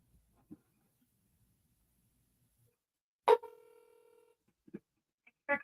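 A phone call is placed to a village hall in Bluffton, Ohio. A sharp burst sounds first, then a steady electronic telephone tone holds for about a second, and a few short beeps and clicks follow against quiet.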